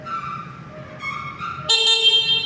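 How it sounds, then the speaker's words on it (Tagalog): Stock horn of a 2024 FKM Fyro 175 motorcycle sounds in one steady beep lasting about a second, loud and close, over a faint background hum, with no talk. "subukan po natin yung kanyang horn"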